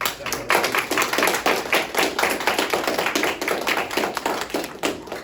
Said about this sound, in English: Let's give Phoenix a big round of applause.